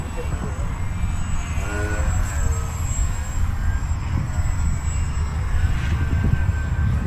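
A foamboard Yak 55 RC plane with a Sunny Sky motor flies steadily throughout, its continuous motor drone sitting under strong wind buffeting and rumble.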